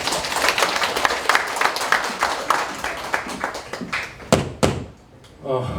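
An audience at a founding anniversary ceremony in a large auditorium claps, a steady run of distinct, fairly close hand claps that thins into a few louder isolated claps, a brief lull, then a rustle.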